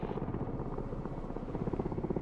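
Helicopter rotors and engine in the Broken Arrow military strategy video game, a steady, dense, throbbing drone that holds loudly for the whole stretch with no talking over it.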